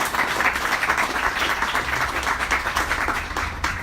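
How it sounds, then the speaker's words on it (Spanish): Audience applause at a conference in Oaxaca, a dense, steady wash of many hands clapping together, loud and sustained throughout with no voices over it. "un fuerte aplauso"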